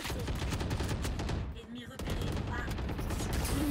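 Rapid automatic spray fire from a Valorant match, sustained bursts almost throughout with a brief gap near the middle, loud and close, with voices talking over it.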